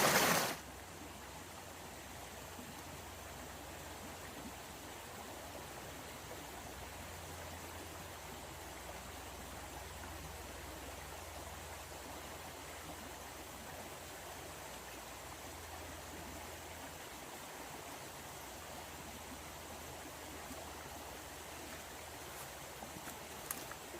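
Creek water in a wildlife reserve flows in a continuous, gentle burbling wash, fairly quiet and steady, with a brief bump at the start and no speech.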